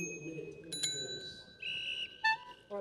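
A bicycle bell rung a few times, with bright metallic pings and a sustained ringing tone over a quiet background and faint voices.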